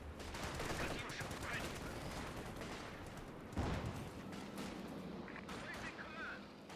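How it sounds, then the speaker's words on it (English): Heavy rapid barrage of explosions and firing from a Calliope rocket attack in a strategy video game, a dense rumbling wash with a sharper blast partway through, with a voice talking over it. "This is a very decent presentation here for a caddy barrage, I would say."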